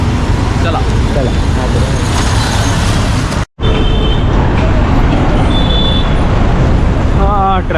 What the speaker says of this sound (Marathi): ट्रॅफिक पार करत चाललो आहे